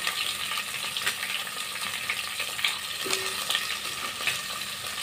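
Cucumber pieces go into a hot pan for sambar and are stirred, with a steady moderate sizzle and occasional scraping and tapping from the utensil. No one speaks.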